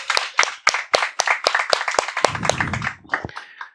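A church congregation claps in a roughly steady rhythm, sharp close claps at first that blur into looser applause with a low rumble near the end.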